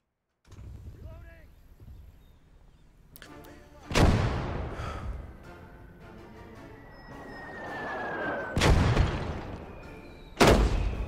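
Mortar teams in the World War II game Gates of Hell fire and impact, giving three or four sharp booms spaced a few seconds apart over a low rumbling battlefield bed, with faint talk underneath.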